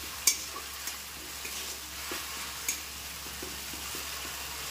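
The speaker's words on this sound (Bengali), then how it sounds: "এবার মশলাগুলো ভালো করে আমি মিশিয়ে একটু কষিয়ে নেব" Ground spices with ginger, garlic and onion are stirred and sautéed in a pan for palak paneer, giving a soft, continuous sizzle with light scraping knocks from the spoon at irregular intervals.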